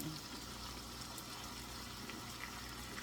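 Water from a can pours into a pot of pasta fagioli with beans, a soft continuous splashing gush that is fairly quiet and steady, with no talking.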